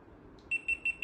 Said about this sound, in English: you get the big beep, right? Like this. Hear it out.